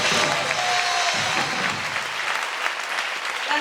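Theatre audience applause for an absent set designer, dense steady clapping that continues throughout and eases slightly toward the end, fairly close and sustained.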